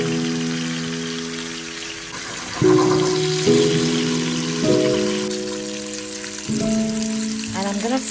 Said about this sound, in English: I'm gonna slightly place each slice of bacon in the pan